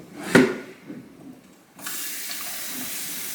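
A kitchen sink that had been clogged fills from a tap: a brief clunk, a pause, then a steady, close hiss of running water pouring in.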